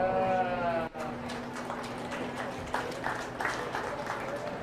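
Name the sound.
applause at a sheep and goat show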